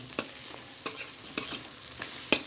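Raw mango going into a frying pan while cooking potol, with a spoon stirring in sharp scraping strokes at a steady rhythm over a continuous low sizzle of frying.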